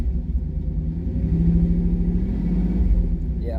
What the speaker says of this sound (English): Let's give her a little bit of RPM.